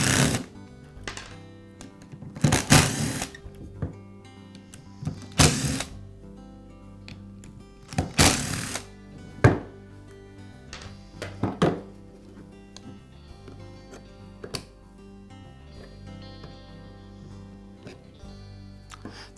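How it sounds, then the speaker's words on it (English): Work inside a Milwaukee reciprocating saw gearbox to remove a plate: sharp metallic clicks and clunks of tools on metal come in irregular bursts, close and fairly quiet, with no talking. "Next, I'll remove the plate inside the gearbox."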